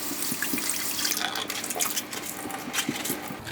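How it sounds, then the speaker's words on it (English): A kitchen tap runs steadily over salted cucumbers being rinsed in a sink for Japanese sunomono, with splashing and faint clinks of a bowl beneath the continuous stream. "you want to rinse it with some water and then squeeze it one last time"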